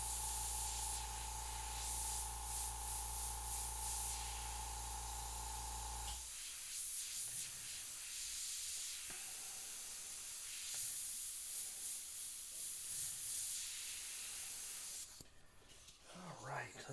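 An airbrush sprays paint onto a Jack Torrance "Here's Johnny" artwork: a steady droning hum for the first six seconds gives way to close, intermittent bursts of soft hissing spray.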